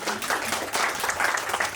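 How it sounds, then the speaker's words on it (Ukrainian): A studio audience on a Ukrainian prank show gives a short burst of dense applause for a family, the clapping rolling evenly for under two seconds. "Оплески цієї сім'ї всій"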